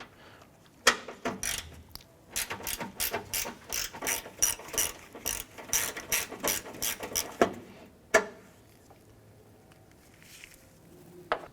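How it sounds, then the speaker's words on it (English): Ratchet wrench clicking in rapid bursts while a 10mm bolt is backed out of the washer fluid reservoir on a 1994-2004 Chevy S10, close and crisp, with a few sharper clanks near the end and no talk. "There's a 10mm bolt right here. We're going to go ahead and remove this."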